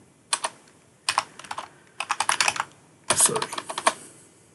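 A web address is typed on a computer keyboard in four quick bursts of crisp, close key clicks separated by short pauses, with a brief spoken word in between.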